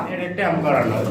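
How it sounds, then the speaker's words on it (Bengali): A parrot calls at a pigeon seller's place, a short bird call close by, mixed with voices. "টিয়া পাখি ডাকে"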